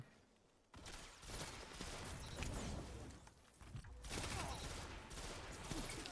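Rifle gunfire in the Destiny 2 video game, a dense burst of shots after a quiet opening, dipping briefly and then returning as sustained loud firing with game effects.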